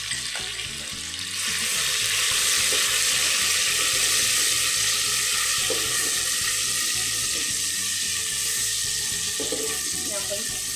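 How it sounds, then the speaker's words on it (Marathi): Curry leaves, cumin and ginger-garlic paste fry in hot oil for Kolhapuri misal, giving a loud, steady broadband sizzle that swells after the first second and stays close, with occasional faint stirring scrapes. "आपण भाजून घेऊया"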